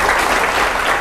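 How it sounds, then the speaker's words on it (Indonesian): An audience claps after a talk with an army general, a dense, steady burst of applause from a crowd in a hall, loud and close throughout. "Oke, tepuk tangan."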